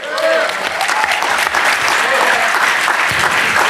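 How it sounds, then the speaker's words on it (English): An audience at a hip hop and politics panel discussion claps in a steady, dense burst of many hands that fills the room, with scattered voices murmuring underneath. "about 30 of y'all clap"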